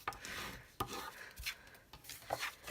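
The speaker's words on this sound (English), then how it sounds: "So let's burnish these lines." Paper card fold lines being burnished for a stamped desk calendar project, heard as dry scraping and rubbing strokes with a few sharper taps, close and moderately loud, with no talking.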